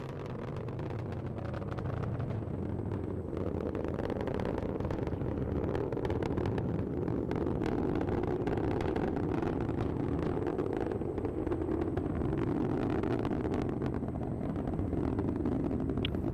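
Roaring rumble of the ULA Vulcan Centaur's BE-4 engines and solid rocket boosters during ascent, a steady, continuous broadband roar heard from a distance, with wind buffeting throughout the clip.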